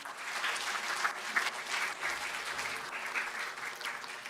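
A conference audience applauds as a guest is invited onto the dais, many hands clapping in a steady, moderately distant patter that holds evenly throughout.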